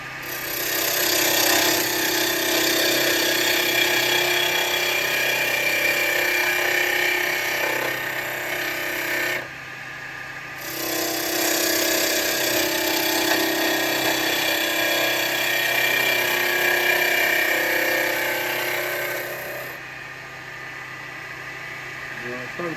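A carbide tool cuts a tenon on a spinning burr-wood blank on a wood lathe, giving a loud, continuous scraping hiss with the motor's hum underneath. The cutting pauses briefly twice.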